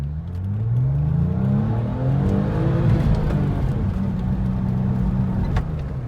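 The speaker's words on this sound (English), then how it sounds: "Actually revved it a little more than I wanted to at that moment" A Porsche 911 Turbo engine revs hard, pitch climbing quickly then dropping back and holding at a loud, close, steady drone with no talk.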